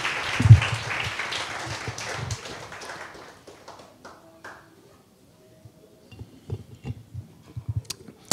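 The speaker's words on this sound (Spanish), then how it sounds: "Vamos a dar un aplauso a Jesús por esta palabra." A church congregation applauds after a sermon, a crowd of clapping hands that thins and fades out over a few seconds, leaving near silence broken by scattered taps and small knocks.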